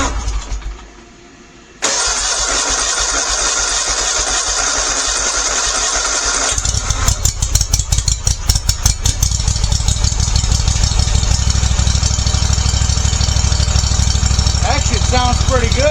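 Ferris IS1500Z zero-turn mower engine fitted with a new carburetor cranks and starts after a quiet pause, then settles into a steady, loud, close running drone with some rising revs.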